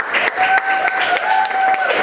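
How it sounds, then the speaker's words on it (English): Crowd applause at a spring sports celebration honoring a championship trophy, a steady dense patter of many hands over two seconds, with faint whistles or cheers riding above it. "And also another round of applause."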